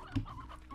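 A chicken gives one short, fairly quiet cluck in the Slime Rancher game, with low background ambience and no talking.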